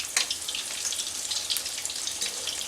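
Chicken cutlets frying in a pan of oil, a dense, continuous crackling sizzle with bright spitting pops, close and steady throughout with no talk.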